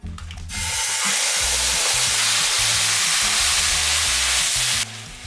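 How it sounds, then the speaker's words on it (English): Chicken frying in a pan gives a loud, steady sizzle that starts abruptly and runs throughout, with soft background music underneath. "Make sure everything is frying evenly."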